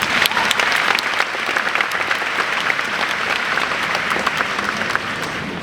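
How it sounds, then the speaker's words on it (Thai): A large audience at the Miss Grand Thailand 2023 final show breaks into sustained applause, dense and steady throughout with a slight swell near the start, no voices standing out. "ปรบมือให้ตัวเองหน่อยได้ไหมคะ"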